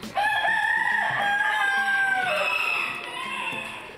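A Vorwerk rooster crows loudly and close, one long drawn-out cock-a-doodle-doo with a wavering, falling tail, followed by softer clucking.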